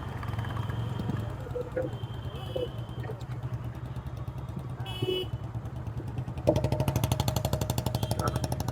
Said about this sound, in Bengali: কারণ বিশাল আওয়াজ এই সামনের বাইকটাতে